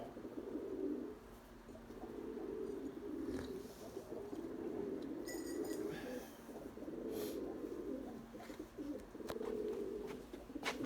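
Pigeons coo in repeated soft, rolling phrases at a steady rhythm, fairly close and quiet, with faint outdoor background and occasional small clicks.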